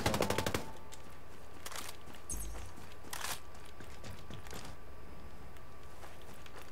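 Automatic gunfire in a Ghost Recon Breakpoint PvP match opens with a rapid, loud burst of shots, followed by scattered distant reports and footsteps over a steady game background.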